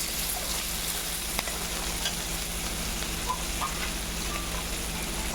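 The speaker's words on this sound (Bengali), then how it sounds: "দিয়ে দিব পেঁয়াজ কুচি, নেড়ে চেড়ে অল্প হালকা ভেজে নেব" Chopped onion and black cumin sizzle in oil, and a dense crackling fry runs steadily under occasional scraping stirs.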